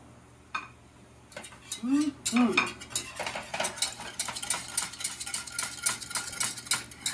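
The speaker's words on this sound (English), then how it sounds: "make sure I whisk constantly to get all of that cornstarch in there" A whisk clatters rapidly against a metal pot as cornstarch mixture is stirred in a home kitchen cooking competition, producing steady scraping and clinking. Brief vocal sounds come earlier, then the busy, close rhythmic whisking continues alone.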